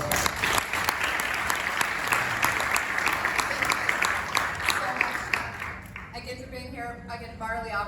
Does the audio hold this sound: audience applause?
yes